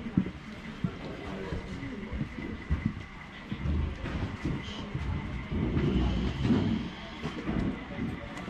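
A low, steady mechanical rumble of an idling train engine drones on, with some faint clanks and background noise.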